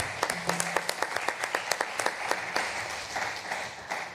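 An audience claps for a speaker at a solar thermal heating dialogue event, with sharp individual claps standing out from a looser round of applause that thins over about four seconds.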